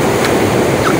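Sea waves washing against a small fishing boat at sea, a steady broad roar of surf and wind with no clear break, loud and close throughout.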